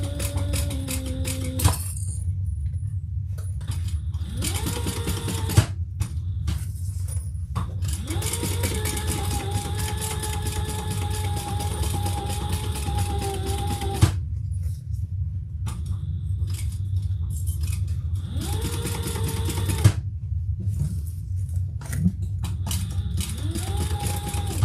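A sewing machine running a basting stitch on leather in several bursts, each a fast mechanical whirr with a rising and falling motor tone, separated by short quiet pauses and a few isolated clicks.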